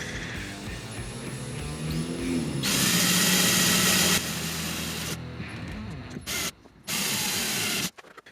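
Power drill boring a 5/32 hole into a kayak hull for a sail installation: whirring bursts of high, steady drilling that start and stop, with a loud stretch in the middle and short final bursts.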